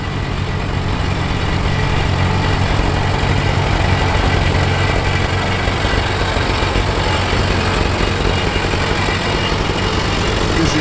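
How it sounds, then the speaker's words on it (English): An International Harvester W9 Wheatland-style standard tractor engine idles steadily with a low, continuous rumble, loud and unbroken throughout, with no talk. "Here's two more of the great Wheatland style standard tractors"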